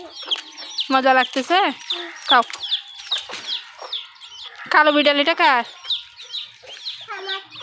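Several chickens cluck close by in repeated bursts while people talk over and between the calls.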